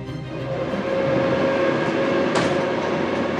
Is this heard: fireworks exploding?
no